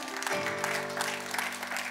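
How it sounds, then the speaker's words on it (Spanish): Congregation clapping in a church during a sermon, a dense steady patter over a low hum and tonal drone, brief and of moderate loudness. "Dele ese fuerte aplauso a Cristo"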